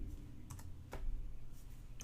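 Typing on a computer keyboard, entering C# variable declarations in Visual Studio: a few sparse, distinct key clicks close up over a low room rumble, with no talking.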